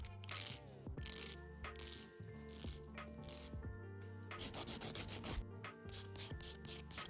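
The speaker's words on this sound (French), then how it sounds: "Je viens dégraisser avec du cleaner et on va pouvoir passer au limage." A nail file rasps rhythmically across a false nail during a manicure, close and fairly loud, in repeated short back-and-forth strokes with brief pauses.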